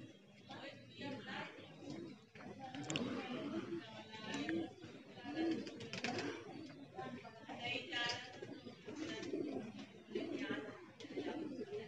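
Pigeons coo softly and repeatedly at a middle distance while a flock walks together with a couple flying overhead, the cooing mixed with steady outdoor noise and some talk.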